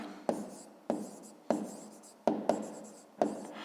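Pen or pencil writing out a fifth-grade math exercise, six sharp strokes at roughly even intervals, each one a short, close, scratchy attack that fades off before the next.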